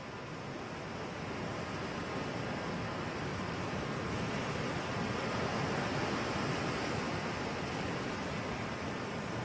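A played recording of ocean waves while sailing from Cuba to Miami gives a steady, dense wash of surf and rushing water that holds at an even, moderate loudness throughout, with no talk.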